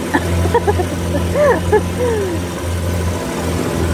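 A steady low boat engine drone hums throughout, with people talking over it nearby, on the water near Taal Volcano.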